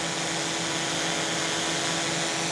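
A DJI Air 3 drone flies through fog, giving a steady, faint whirring buzz of spinning propellers that stays even and continuous without any voices.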